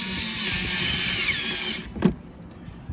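A power drill runs steadily while driving screws back into the throttle control of a 2015–2024 Malibu boat, then cuts off, followed by a single close knock and faint handling clicks.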